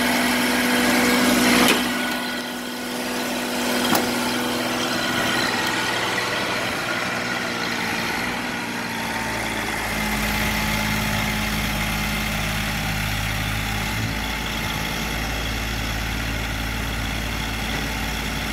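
A pony motor runs steadily on a 2008 forestry machine, a constant close engine drone with a small shift partway through. It is heard alone for the whole stretch.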